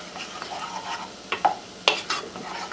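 Butter and onions sizzle softly in a pan, with a few sharp scrapes and taps of a stirring utensil against the pan, close and brief, no voices.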